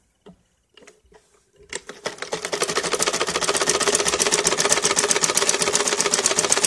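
A sewing machine runs a straight seam joining two panels of salwar fabric, starting with a few soft clicks and hand sounds, then settling into a loud, steady, rapid needle clatter that holds to the end.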